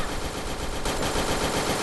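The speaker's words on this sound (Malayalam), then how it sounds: "നിർത്താതെ വെടി വേണം അവരെ ശല്യപ്പെടുത്തി" Rapid, continuous Free Fire gunfire, dense automatic bursts blending into a constant loud crackle with no pauses.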